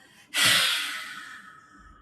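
A deep, forceful exhale in a star-shaped goddess yoga pose, bursting out suddenly after a quiet moment and fading gradually as a long airy rush, heard close and alone.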